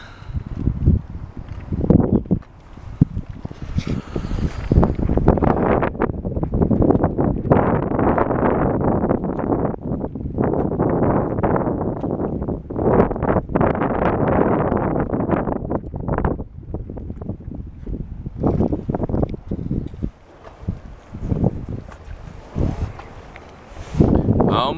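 Strong wind buffets an open canoe off Galiano Island, British Columbia, as waves build, a loud, continuous roar of wind noise and rushing water that surges and dips without a break for the whole stretch.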